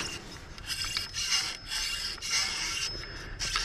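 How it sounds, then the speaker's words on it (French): A slipping drive belt on a motor gives a steady rasping, rubbing mechanical noise with a rough, uneven texture that pulses slightly, close up and fairly quiet, with no talking. "C'est la courroie qui fait ce drôle de bruit."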